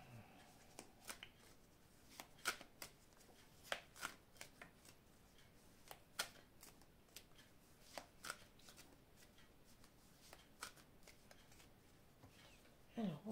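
An oracle deck (Eye of the Lotus oracle) is shuffled and cut by hand. Quiet, close, irregular card slaps and riffling snaps come in uneven bursts, with faint talk at times.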